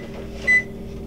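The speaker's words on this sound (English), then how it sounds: "And then set the timer again for another 15." A kitchen microwave timer is set, giving a single short electronic beep over a low steady hum, close and clear.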